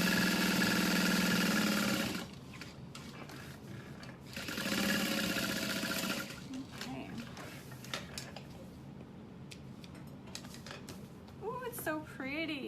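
A sewing machine stitches around the sides of a diamond clutch wallet in two loud, steady bursts of rapid mechanical whirring, followed by quieter handling clatter and someone talking.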